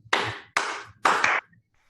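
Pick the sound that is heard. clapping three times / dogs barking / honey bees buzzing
clapping three times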